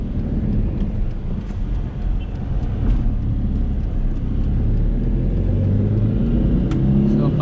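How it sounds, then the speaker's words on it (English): A 2011 Tata Nano engine accelerating at full throttle, a dense low rumbling drone heard from inside the car, steady and loud with wind buffeting over it and no clear speech. "First gear, full RPM. Okay, second gear, again full throttle."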